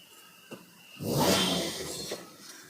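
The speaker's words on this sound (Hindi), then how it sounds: "गाड़ी को मैंने स्टार्ट ही रखा है।" A running Maruti Suzuki Ertiga with a CNG fault and trouble code P0134 gives a short, fairly close rev: a muffled engine surge that swells for about a second, then settles back to a quiet idle.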